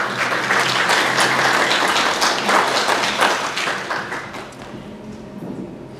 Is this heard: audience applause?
yes